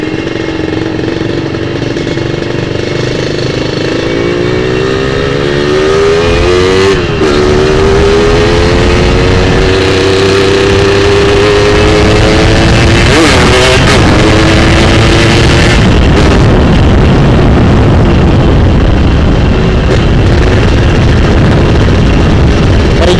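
A Yamaha RX King two-stroke motorcycle accelerating hard at full throttle on a straight road, loud close engine note climbing in pitch through several gear changes, with a rising, buzzing roar and no talk.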